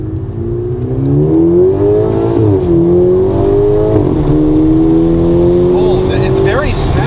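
A Toyota Supra 2.0 fitted with an ARK Performance DT-S exhaust pulls hard from inside the cabin, its engine note climbing steadily through a gear change, loud and close, while a voice talks over it.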